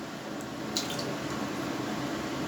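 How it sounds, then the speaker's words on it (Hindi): About a kilogram of mutton goes into a pot of water for yakhni, a soft watery plop and slosh near the start followed by gentle trickling and dripping at moderate level. "ये 1 किलो गोश्त है जो मैं इस पानी में ऐड कर रहा हूँ।"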